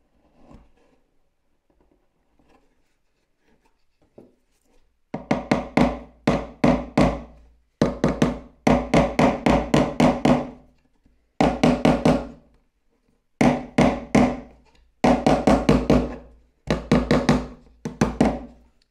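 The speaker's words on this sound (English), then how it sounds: "It fits very, very tightly, so you have to screw it in slightly and then we'll bang it with the hammer." A hammer banging a tightly fitting part down into an instant box camera, heard as fast clusters of sharp, close, loud knocks in repeated bursts after a few seconds of near silence.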